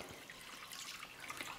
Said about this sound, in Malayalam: ഇതിലേക്ക് നമ്മൾ ഈ മൂന്നാം പാല്, അതായത് ഏറ്റവും ലാസ്റ്റ് ഉണ്ടാക്കിയ വെള്ളം കൂടുതലുള്ള പാല്